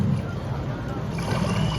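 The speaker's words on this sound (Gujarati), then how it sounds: "હવે આપણે બોટમાં બેસીને જઈ રહ્યા છીએ ભાઈ" A boat moves across the river at the 2025 Maha Kumbh with a low, steady engine rumble, mixed with rushing wind noise on the microphone.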